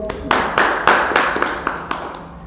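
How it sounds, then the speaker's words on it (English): A small group claps at a discussion about a Supreme Court judgment: a handful of sharp, separate claps in an uneven rhythm, fairly close, each one distinct rather than a continuous roar. "can we give a clap for Supreme Court?"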